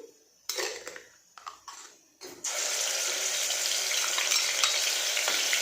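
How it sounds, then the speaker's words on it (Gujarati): Coarsely ground onion hits hot oil in a pan for sev usal, bursting into a loud, dense, continuous sizzle after a few clanks and stirring sounds. "ડુંગળીને આપણે તેલમાં સાતળવાની છે"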